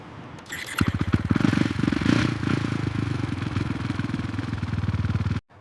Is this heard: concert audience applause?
no